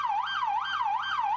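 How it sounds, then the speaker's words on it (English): A police siren used to scare bears wails close and loud in a steady up-and-down sweep, with no other sound. "like a siren"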